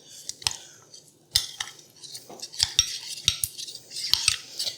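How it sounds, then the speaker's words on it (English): A utensil clinks and scrapes against a bowl while cornstarch is stirred into water, irregular sharp taps and rattles up close with no talking. "You just want to stir this around until it's completely dissolved."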